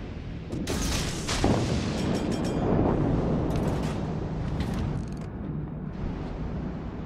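Naval artillery in World of Warships: Legends, heavy gun blasts booming at sea, with a few sharp cracks over a dense rumbling roar and wash of waves, loud and continuous.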